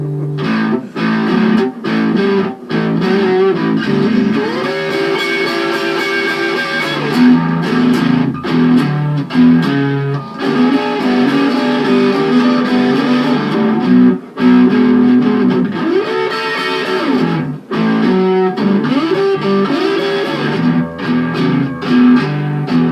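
A Telecaster-style electric guitar played loud through a distortion pedal, with sustained crunchy chords and sliding bends that ring out in bursts with brief gaps, close and unaccompanied.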